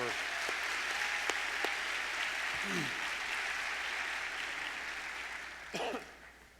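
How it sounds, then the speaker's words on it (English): Steady applause from a crowd at a teacher appreciation event, a continuous even patter of clapping that carries on for several seconds before tapering off slightly. "Let's give them a round of applause"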